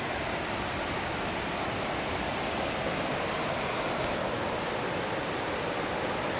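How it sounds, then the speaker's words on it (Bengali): Water flowing and cascading down near a temple in Darjeeling, a steady broadband rush that stays loud and constant throughout, with no voices. "দেখুন কোথা থেকে জলটা আসছে, ওরকম ওই জায়গাটা থেকে, ওখান থেকে এরকম নেমে আসছে।"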